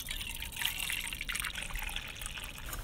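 Coffee poured from a Hydro Flask outdoors, a soft continuous trickle and splash at low level, with faint background noise and no talk.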